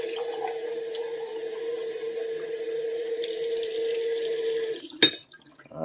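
Tap water runs from a kitchen faucet in a steady, close hiss and splash, then cuts off sharply near the end, followed by a few drips and quiet.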